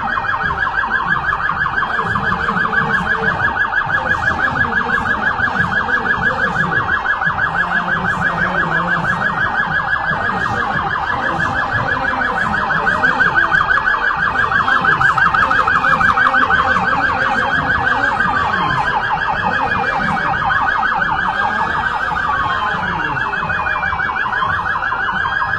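Sirens from fire brigade vehicles parading past an official stand at a city festival parade in Cachoeiro, a continuous loud wailing that holds steady throughout with traffic rumble underneath.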